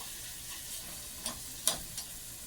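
Meat fries in a pan for a single-serving sloppy joe, a soft, steady sizzle broken by a few sharp ticks and spatula scrapes, heard close and fairly quiet.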